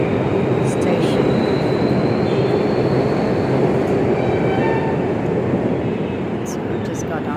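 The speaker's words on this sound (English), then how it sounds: "Delhi Metro going to Kashmiri Gate" An electric Delhi Metro subway train runs near Lajpat Nagar station on the line to Kashmiri Gate, a loud, steady rumble and rush that fills the whole stretch without a break.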